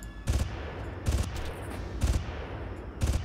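In the Far Cry video game, a distant sniper fires four evenly spaced bursts of gunfire, each a short booming crack with a rolling tail, about one second apart.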